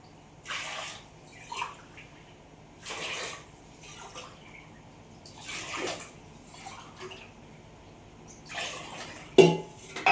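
Water is poured into a pot in four separate splashing pours to cook moong dal rice, each a few seconds long with brief pauses between them, followed by a sharp clatter of metal at the end, close by and without talk.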